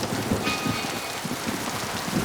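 Steady rain pours down in Mass Effect 2 on the planet Pragia, a dense, even hiss of drops falling on surfaces, close and continuous with no voices.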